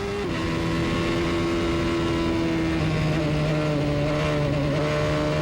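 An IndyCar engine holds throttle through the Kink at Road America, a steady loud droning whine with slight pitch shifts as it drives through the fast corner, with no voices.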